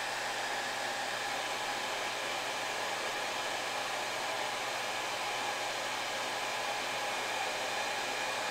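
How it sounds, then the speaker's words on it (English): A hair dryer blowing on plastic model kit parts to soften them, a loud, steady, close whoosh of airflow with motor hum that holds unchanged throughout. "We're going to use the hairdryer."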